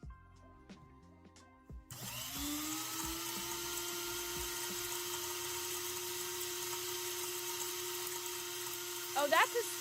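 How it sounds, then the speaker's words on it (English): A heavy-duty grinder spins up after a brief lead-in of light noises, then holds a loud, steady whine for several seconds with a short burst of extra activity near the end. "Oh, that's a serious grinder."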